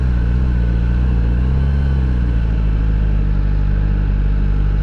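A QJMotor SRK250RD motorcycle with an inline-four 250 engine runs steadily, a loud, close, continuous engine drone with a slight pitch dip midway, no talking.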